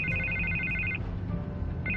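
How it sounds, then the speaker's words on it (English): A phone rings in the Batman Telltale Series video game, a steady electronic ringtone pulsing over a low rumbling game score, pausing briefly and then starting again. "I can't get the phone to stop ringing."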